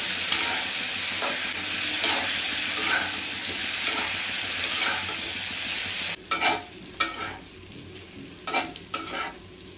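Sliced bitter gourd and small potatoes frying in a pan, a loud steady sizzle with repeated scraping stir strokes, then the sizzle drops away and leaves separate spatula scrapes and clanks.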